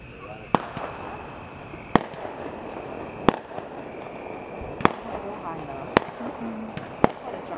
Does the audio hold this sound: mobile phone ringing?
no